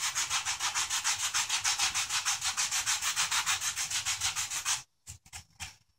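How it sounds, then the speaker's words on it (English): Rapid rhythmic back-and-forth sanding strokes rasp against the grain of a wooden toy for several seconds, then stop, followed by a few scattered scrapes. "one of the rare occasions where you actually do want to sand against the grain"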